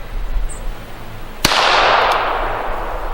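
A single sharp gunshot fired over a MagnetoSpeed V3 chronograph at SHOT Show cracks loudly and close, then trails into a long, broad rumbling decay over steady background noise.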